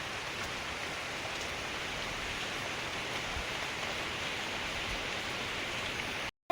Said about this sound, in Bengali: তবে বৃষ্টির থেকেও হাওয়ার বেগ খুব বেশি রয়েছে, এত জোরে হাওয়া বইছে যে দাঁড়ানোই যাচ্ছে না